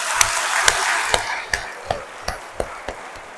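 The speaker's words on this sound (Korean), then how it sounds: "박수 치세요." A church congregation claps together in a steady, even rhythm, sharp beats about three per second over a wash of scattered applause.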